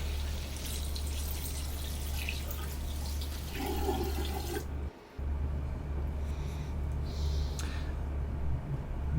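Running water from a tap rinses a Namiki Emperor fountain pen section, a continuous splashing flow that briefly cuts out midway before resuming with softer trickling and drips.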